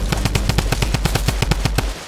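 A weapon in the Fortnite video game fires a rapid, steady burst of about a dozen evenly spaced shots, loud and close, with no talking.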